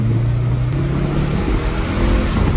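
A tuned 2024 Audi S3 with an Integrated Engineering tune at full throttle: a loud, steady engine roar under heavy road and wind noise, with a rising low drone early on and no speech.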